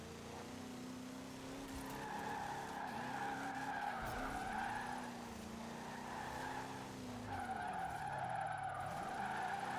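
A Ford F-5 Dually pickup drifts in the racing game Forza Horizon 4, its tires squealing in long, continuous skids over a steady engine drone that rises and dips for nearly ten seconds.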